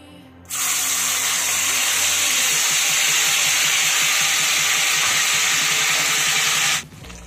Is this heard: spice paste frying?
yes